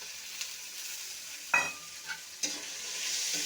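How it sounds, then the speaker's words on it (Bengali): Small potatoes and onions with ginger paste and salt frying in a pan, a soft, continuous sizzle broken by a few sharp spatula scrapes and clinks against the metal. "পেঁয়াজের সাথে একটু ভাজা ভাজা করে নেব।"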